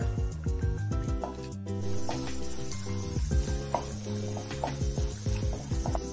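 Cashews and cloves frying in ghee in a pan on medium-low flame, a steady soft sizzle running throughout with background music and occasional light stirring scrapes.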